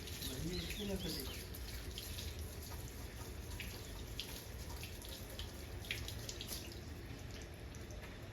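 Water runs quickly into a tank in a continuous, even rushing hiss with light splashing, a faint voice briefly audible near the start.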